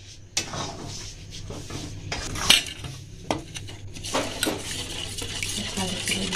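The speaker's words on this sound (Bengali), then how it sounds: "দুধে 1 কাপ চাল গুঁড়ি দিয়ে গুলে নিতে হবে।" Rice flour is stirred into milk in a bowl, heard as close, irregular clinks and scrapes of a utensil against the bowl over a quiet low hum.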